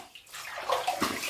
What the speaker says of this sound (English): third pass done. Let's rinse.